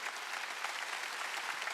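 A church congregation at a Wednesday worship service claps together in dense, steady applause that fills the whole moment without pause.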